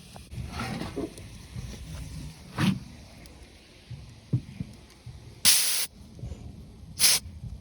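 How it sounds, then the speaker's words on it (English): Hot steam hissing out in irregular spurts: faint background rustle gives way to two loud, sharp hissing bursts near the end, each lasting under a second. "the steam that's coming out of that is a lot hotter than it normally is"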